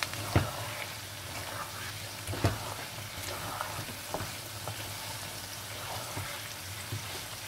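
Chicken curry masala stirred in a pan, with a soft steady sizzle and a few sharp spoon scrapes and clinks spread through, quiet and close with no talking.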